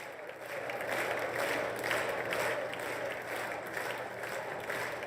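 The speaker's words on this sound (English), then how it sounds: "the applause is a bit more scant than typically during this portion of the walk-in" Scant, tepid applause from an audience during a formal walk-in, a thin steady patter of clapping that holds evenly without cheering, moderately distant and fairly quiet.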